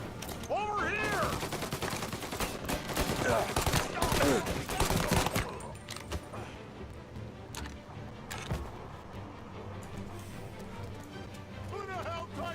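Rifle gunfire in a Mafia Definitive Edition shootout, rapid overlapping shots with loud bursts that thin out later, under shouting voices.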